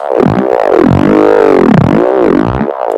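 A dubstep growl synth in Skrillex style sweeps through repeated vowel-like wah contours, loud and continuous, with rich buzzing harmonics and no voices.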